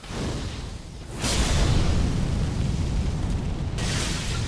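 Bomb blasts in a Dark Souls 3 duel, a deep, rumbling explosion that swells after about a second and lingers loud, with a second whooshing burst near the end.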